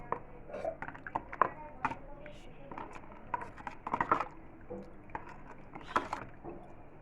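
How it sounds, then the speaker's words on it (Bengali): A spoon stirs bel (wood apple) sharbat with milk in a glass, giving faint, irregular clinks and soft liquid swishes in a quiet room. "ভালো করে নেড়ে ছেড়ে গুলিয়ে নেব"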